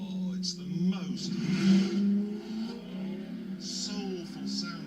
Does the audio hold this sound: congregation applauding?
no